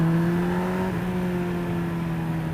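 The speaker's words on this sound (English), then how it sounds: "I am riding Todd's super fast Busa" A Suzuki Hayabusa motorcycle engine holds a steady, loud drone close by, with a slight dip in pitch partway through as the revs shift, and no talking.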